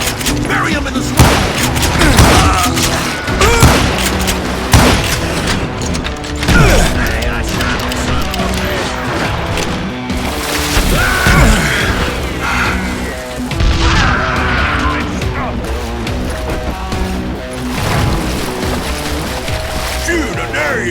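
Gunfire in the Western shooter game Call of Juarez: Gunslinger: loud, repeated shots and impacts over a dense bed of game music, with voices talking throughout.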